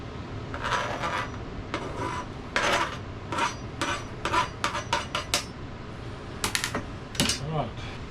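Ingredients for damper being roughly chopped on a board outdoors, a string of irregular sharp knife chops and scrapes, close, with some speech mixed in.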